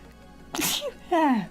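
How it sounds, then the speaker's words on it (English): A single sharp sneeze bursts out, followed by a short voiced exclamation; brief and close. "I have been needing to sneeze for so long."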